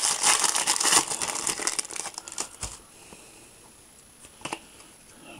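Plastic wrapper of a cricket trading card pack crinkling and tearing as it is opened, a dense burst of rustling close up that fades into a few scattered crinkles.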